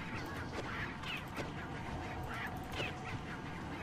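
Chicken from the video game Resident Evil 4, heard as a steady run of nasal, squawking clucks and calls repeating over a dense, busy game background with no talking.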